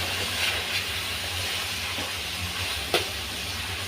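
Red amaranth greens with salt and turmeric are stirred in a hot pan, giving a steady, even sizzling hiss with a few soft scrapes and one sharper clack near the end.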